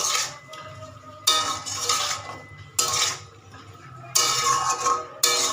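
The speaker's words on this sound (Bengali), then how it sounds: "নাড়াচাড়া করে নেব।" Small potatoes being stirred in a cooking pot, with repeated metallic scraping and clinking of a utensil against the pot in several short bursts, close and fairly loud, no talking.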